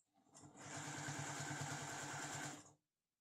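A semi-industrial straight-stitch sewing machine runs steadily for over two seconds, its rapid rhythmic needle clatter close and loud before it stops abruptly.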